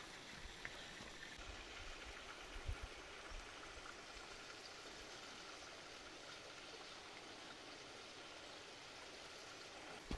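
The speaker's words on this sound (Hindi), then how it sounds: "पानी की बहती आवाज़ ये आपको सुनाई दे रही होगी।" A Himalayan forest stream near Binsar in Uttarakhand rushes in a soft, continuous, even wash of flowing water, faint and distant throughout with no speech.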